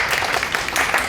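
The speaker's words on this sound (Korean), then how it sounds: "박수 쳐주시고요" An audience at a university special lecture on engineering and leadership breaks into brief, brisk clapping that stays fairly even throughout.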